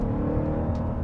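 Dodge Durango Hellcat engine with a deep, steady, loud rumble close by, held throughout without a clear rise or fall.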